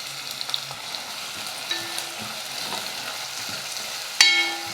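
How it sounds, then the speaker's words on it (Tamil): Onions sizzle steadily as they fry in a pan for mushroom gravy, with occasional clinks of a utensil stirring; a louder scrape near the end. "வெங்காயம் நல்லா வதங்கட்டும்"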